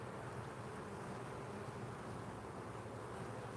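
Honeybees droning steadily in an outdoor bee yard during a hive inspection in swarm season, a faint continuous buzz that holds at one low level throughout with no voices.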